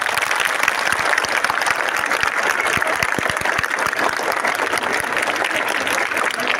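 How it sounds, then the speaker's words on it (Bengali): Loud, dense applause from a crowd of schoolchildren for a visiting MLA at a sports equipment handover at Arambagh High School, sustained evenly without a break. "প্রথমেই সম্মানীয় বিধায়কের জন্য একটা জোরে করতালি"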